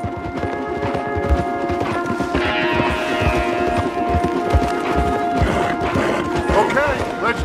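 Horses ridden along a wooded trail in Red Dead Redemption 2, hooves thudding in a steady busy rhythm under tack rattle and a loud game soundtrack.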